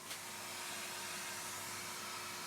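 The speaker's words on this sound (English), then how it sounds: "I'm using a paintbrush and a vacuum cleaner to remove all the excess swarf" A vacuum cleaner runs while clearing swarf from a lathe tailstock, a steady, fairly quiet broadband whoosh with a faint hum beneath, unbroken throughout.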